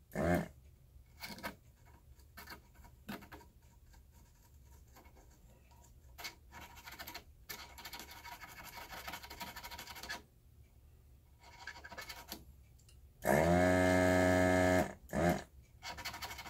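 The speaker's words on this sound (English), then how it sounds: "I've been using my needle nose pliers. I made to pull out some of the wire," Needle nose pliers pull old wiring from a Hammond AO28 organ preamplifier, giving close, intermittent scratching and scraping with a faint mains hum beneath and one louder, buzzing burst near the end.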